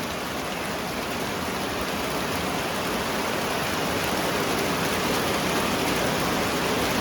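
Heavy rain pours down steadily around a rural home set among rice fields, a dense, unbroken hiss that stays loud and even throughout with no voices.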